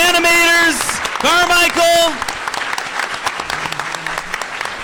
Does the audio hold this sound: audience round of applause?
yes